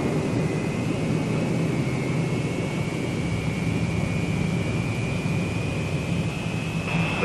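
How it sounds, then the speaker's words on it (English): Boeing B-47 jet bomber engines spooling up to power on the runway for the takeoff roll, a loud, continuous broadband roar with a steady whining tone that slowly rises in pitch, heard alone. "Once you're lined up on the runway, all you need is a final check and power for the takeoff roll."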